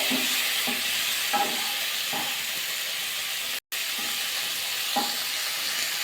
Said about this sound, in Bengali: ভালো করে মিশিয়ে নিলাম কপিটা খুবই ভাজা করে নিতে হবে